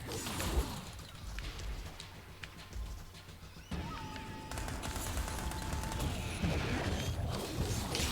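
Rapid, overlapping gunfire from the side-scrolling roguelite shooter Fury Unleashed, with dense bursts of shots and crashes over game music at moderate loudness for eight seconds.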